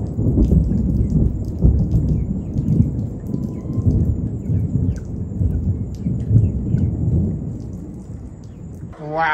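Heavy rain pours steadily while low rumbles of thunder roll through, with a sharper crack near the end.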